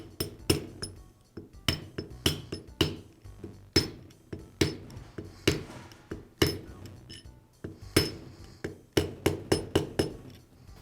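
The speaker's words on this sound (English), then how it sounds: "To install the bearing, I'll place it over the gear and use a socket to tap it into place." Sharp metallic taps ring out as a socket is used to drive a bearing onto a gear during a Milwaukee reciprocating saw armature repair, coming in irregular clusters of close, clear knocks with brief pauses between them.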